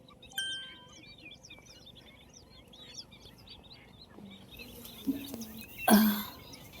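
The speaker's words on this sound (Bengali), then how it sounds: "কত পাখি," A busy chorus of many birds chirping and calling at a flamingo wetland near Pune, with dense overlapping tweets early on and a few louder bursts of noise near the end.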